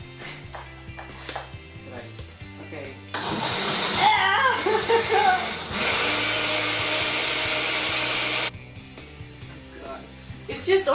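A battery-powered blender whirs as it mixes a smoothie of orange juice and a little olive, running loud and steady for several seconds in two bursts, with voices talking before and after.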